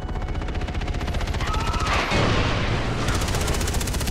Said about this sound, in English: primed several grenades to explode